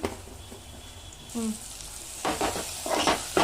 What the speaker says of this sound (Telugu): ఆనియన్ బాగా ఫ్రై అవ్వాలి.